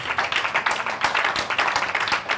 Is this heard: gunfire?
no